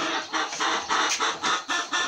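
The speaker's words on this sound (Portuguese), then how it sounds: "As galinhas estão animadas." Chickens on a small countryside farm clucking in a lively, repeated pattern of short pulses, close and fairly loud with no talking.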